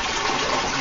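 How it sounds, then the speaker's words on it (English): A Japanese toilet flushes and refills its tank, a brief steady rush of running water close to the microphone. "You flush, and as it refills the tank, water"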